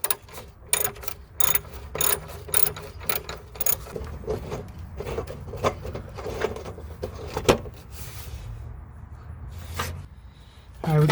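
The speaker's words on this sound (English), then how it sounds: "So we'll go ahead, loosen this bolt" A ratchet working on a SAAB turbo heat shield bolt, fast bursts of sharp clicking in quick runs, close and fairly loud, with pauses between strokes.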